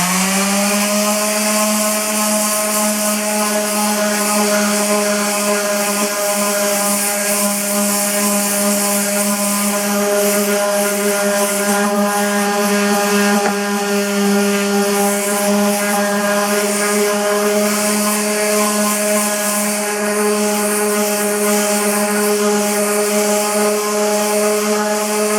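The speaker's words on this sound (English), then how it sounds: "I'll start by sanding things down a little bit." A power sander works on the bumper of a Lotus Excel during repair, giving a loud, steady, unbroken motor whine with a buzzing tone that holds constant throughout, with no talking.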